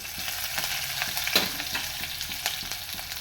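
Onion and curry leaves frying in a pan with a steady sizzle, overlaid by faint scraping and stirring taps, close and continuous with no talk.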